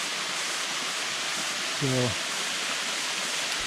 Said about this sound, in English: I have found a waterfall